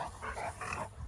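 A female Rottweiler growls during play-biting, with low, rumbling growls in short pulses, close and fairly loud, and no talk over it.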